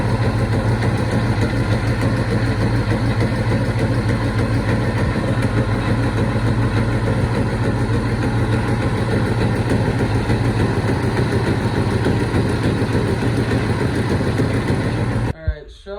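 A 1974 Chevy Stepside pickup's engine runs steadily at a loud, close idle with a deep, even rumble, cutting off abruptly at the end.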